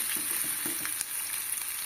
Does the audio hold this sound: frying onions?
yes